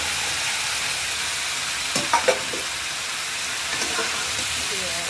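Green jackfruit pieces sizzling as they are stir-fried with prawns and spices in a pan, a steady loud hiss with a few brief clatters of stirring, no talking.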